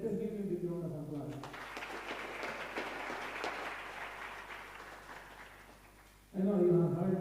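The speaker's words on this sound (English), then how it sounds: "let us give him a big round of applause" Applause from an audience at a climate resilience and sustainable development event swells for about five seconds between stretches of someone speaking into a microphone, fading slightly before the talk resumes.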